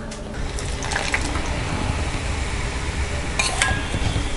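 Strained jaggery syrup poured into a wheat laddu mix with badam gond, a steady close liquid trickle and gush with faint clinks of utensils, no talk.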